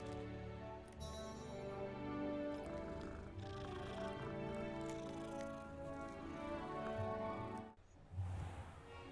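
A cat in the video game Hogwarts Legacy makes soft mewing and purring sounds, set against a dense layer of game music that stays loud throughout.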